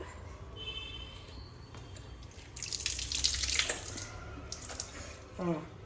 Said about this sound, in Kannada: ಹುಣಸೆ ಹಣ್ಣು ಒಂದ್ಸಲ ನೀರಲ್ಲಿ ತೊಳೆದ್ಬಿಟ್ಟು ಹಾಕಬೇಕು